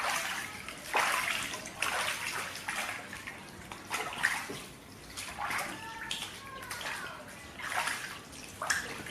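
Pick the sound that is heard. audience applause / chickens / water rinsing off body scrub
water rinsing off body scrub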